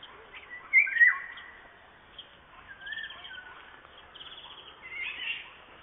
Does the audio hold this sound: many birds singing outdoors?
yes